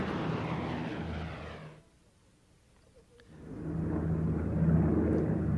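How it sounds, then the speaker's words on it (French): The Enola Gay, a propeller bomber, roars loudly on takeoff, a broad droning engine noise that briefly drops away mid-clip before swelling back to full strength, close and steady. "il tire sur le manche et l'Enola Gay prend son envol"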